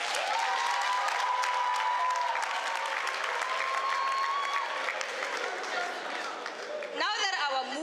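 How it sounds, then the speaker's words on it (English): Audience at a youth seminar applauding steadily for several seconds, a dense wash of clapping with a few whistle-like tones inside it, before a voice begins talking near the end. "You can give yourself a round of applause."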